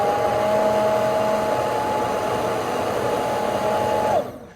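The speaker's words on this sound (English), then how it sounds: "I like just to put my immersion blender down and hold it in one place." An immersion blender held in one place purees apples for applesauce, a steady whining motor hum with a constant pitch that runs for about four seconds, then cuts off abruptly.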